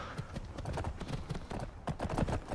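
Horse hooves clip-clopping in a steady quick rhythm while riding in modded Skyrim, a close, continuous patter of hoofbeats with no talking.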